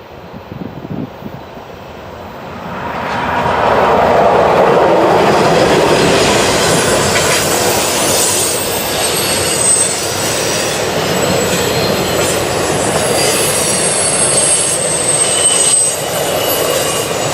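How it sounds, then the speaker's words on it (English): An eastbound Norfolk Southern intermodal freight train rolls across a bridge steadily and loudly, with rumbling wheels, metallic squeals and clatter building after the first few seconds and holding throughout. "an eastbound Norfolk Southern intermodal train as it rolled across the Commerce Street Bridge"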